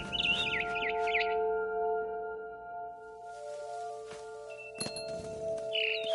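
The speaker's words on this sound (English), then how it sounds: "Then I heard chirping outside my window. It was a barn swallow going back to her nest." Barn swallow chirps in the game What Remains of Edith Finch, short warbling bursts near the start and again at the end over a steady tonal background with soft footsteps or rustles between.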